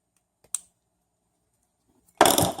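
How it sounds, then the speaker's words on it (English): Soldered component legs are snipped off a circuit board with cutters: one sharp click, a pause, then a denser burst of clipping and handling noise close by. "so we'll just snip them off"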